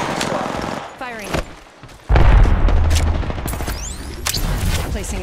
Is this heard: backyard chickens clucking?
no